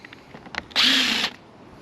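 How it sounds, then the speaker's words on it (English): A power drill bores during a box van build, one loud, steady half-second burst close by, preceded by a few small knocks and followed by quiet. "I'm just gonna try to not drill through the wire."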